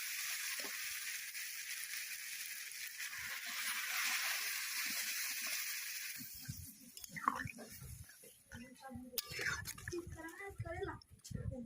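Water poured into a hot pan of mung dal cooking with fish head, a broad hissing sizzle for several seconds that gives way to clattering, bubbling and stirring sounds, with a voice speaking over it.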